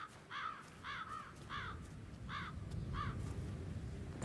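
Crows caw repeatedly in a cemetery in the video game Hitman 3, five or six hoarse, evenly spaced calls at moderate distance over a steady low background rumble.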